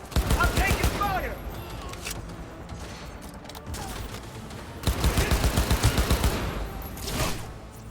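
Bursts of rapid automatic gunfire in the video game Cyberpunk 2077, a dense fusillade at the start and another sustained volley later, with quieter gaps of combat noise between.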